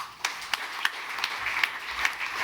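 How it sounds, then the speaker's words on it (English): A panel's audience applauding, light scattered claps with a few sharper individual hits over a soft room hum, fairly distant and modest in volume, lasting a couple of seconds. "Give them another big round of applause"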